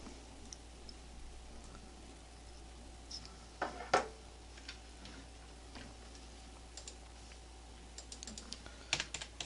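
Typing a password on a computer keyboard: soft, quick key clicks in small clusters, with a slightly louder burst in the middle and more taps at the end, over a quiet hum.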